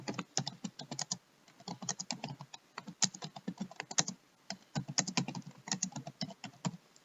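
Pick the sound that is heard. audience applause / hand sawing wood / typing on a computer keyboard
typing on a computer keyboard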